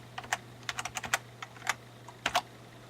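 Keys clatter as a password is typed on a Dell Optiplex 755 computer keyboard, quick irregular clicks in short bursts with pauses, close and fairly quiet over a low hum.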